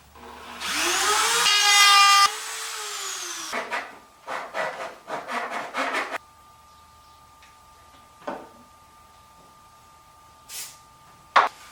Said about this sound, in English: Since it's so little, I'm just going to route it with my Dremel.